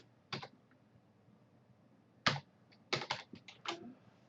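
A password is typed on a computer keyboard: sparse, quiet key clicks, first a single tap, then a lone click and a quick cluster of several presses near the end, with no talk.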